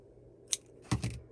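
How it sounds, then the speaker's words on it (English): Scissors cut yarn while making a lucet cord, a faint crisp snip followed by a closer double snip in quick succession in a quiet room. "then you can go ahead and cut your yarn"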